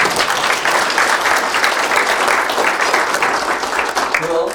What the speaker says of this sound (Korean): 우리에게 박수 한번 보낼까요?